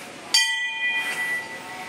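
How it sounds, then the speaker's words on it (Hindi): A temple bell at Muktagiri rings once with a sharp metallic strike, leaving a long clear ringing tone that slowly fades, heard close in an outdoor hillside setting. "घंटी।"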